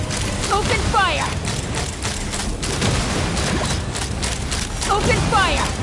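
Dense video-game gunfire in Genshin Impact, with rapid bursts and mechanical clatter filling the whole stretch, loud and continuous, with faint game-character voices mixed in.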